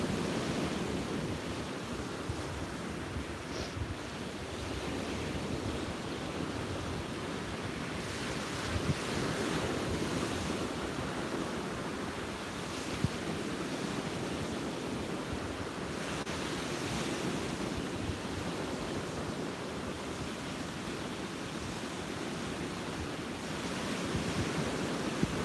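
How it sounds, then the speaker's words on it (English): Rough ocean waves roar continuously, heavy surf churning with gusty wind buffeting the microphone, loud and unbroken throughout. "soak in the sound of these rough waves today"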